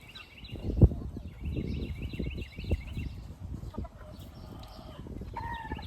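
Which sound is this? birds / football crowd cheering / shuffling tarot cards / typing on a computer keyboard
birds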